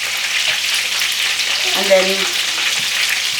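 Food sizzles steadily in a frying pan throughout, a continuous loud hiss with brief stirring movement, while a voice speaks a couple of words midway.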